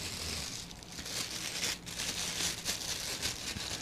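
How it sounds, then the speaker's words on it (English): Cardboard packaging around a Tokina 17-35mm f/4 wide-angle camera lens handled during unboxing, with close, continuous crinkling and scraping rustles. "There's the cardboard, there's a lens, and then there's cardboard."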